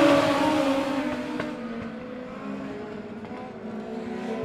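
Legends race cars roar off at the green flag of a heat race at Monett Motor Speedway, a loud, dense engine drone at close range that fades slightly as the pack pulls away.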